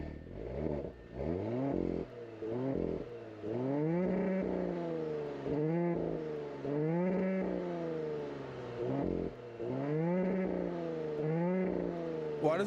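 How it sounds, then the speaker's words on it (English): A turbocharged V6 in an Audi S5 Sportback starts and revs repeatedly, loud rising-and-falling engine pulls in a steady rhythm of blips, close by with no talk. "let's go ahead and fire it up so you can hear how that engine sounds"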